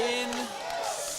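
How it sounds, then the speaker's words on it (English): Crowd at a fighting game tournament cheering loudly and continuously, a dense wash of voices with a brief whoop standing out near the start. "everyone in the crowd going absolutely ballistic"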